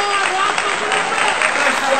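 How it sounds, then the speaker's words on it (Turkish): Crowd applause for the Galatasaray players after their title-clinching 4-1 win at Ankaragücü, a steady dense clapping wash filling the whole stretch with a voice calling out over it. "Alkışlayın evlatlarımı, alkışlayın."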